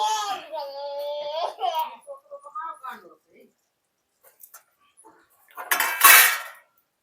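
Pav bhaji topped with fresh coriander is stirred in a pot with the gas off: one loud, close scraping and clattering burst of spoon against metal comes near the end, after a stretch of voice and quiet pauses.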